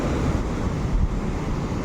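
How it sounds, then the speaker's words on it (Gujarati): Rough sea surf at Dwarka rolls in a loud, continuous roar, with heavy wind buffeting the microphone throughout. "આ છે દરિયો દરિયો ગાંડો તૂર જો ભાઈ અત્યારે સમુદ્રનો"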